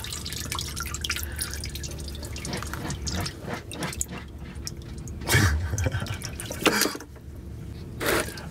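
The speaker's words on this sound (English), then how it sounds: "Still draining, and it's going to be draining for a little bit." Transmission fluid from a 2006 Sprinter drips steadily into a drain pan, with irregular nearby drops and small splashes over a quiet background.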